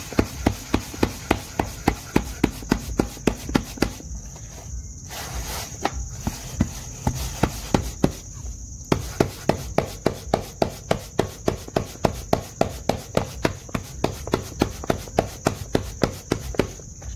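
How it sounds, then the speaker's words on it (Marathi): Urad flour bhakri dough being patted by hand, a quick steady rhythm of soft slaps, repeated dozens of times close up, with a brief pause in the middle before the patting resumes. "तर बघू शकताय अशा प्रकारे भाकरी थापून घ्यायची।"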